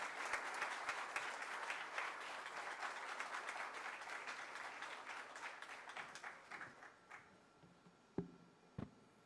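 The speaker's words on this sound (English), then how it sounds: "Please put your big round of applause for Sir as he comes here." Applause from an audience at a PGDM induction ceremony, dense steady clapping that slowly thins out and ends with a few scattered claps.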